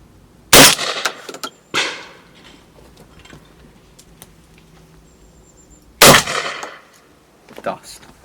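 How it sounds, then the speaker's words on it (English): Shotgun with a full choke fired at clay targets outdoors, two loud sharp blasts several seconds apart, each followed by a shorter echoing crack or clang. "we're going to shoot a couple more for you with the full, just to prove a point that full choke isn't too much choke"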